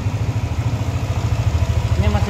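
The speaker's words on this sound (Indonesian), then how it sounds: "Ini mesinnya halus guys. Ini mesin nyala ya." A 2019 Yamaha NMAX scooter engine idles close by, with a smooth, even, rapid low pulsing throughout.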